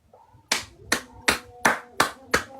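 Six sharp hand claps ring out in a steady rhythm, loud and close, starting after a short quiet pause with faint room noise between them.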